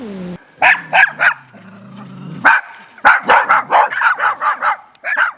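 Guard dogs at a National Guard army position in Kharkiv region bark loudly and close by in repeated bursts, rapid volleys of sharp barks after a brief whimper.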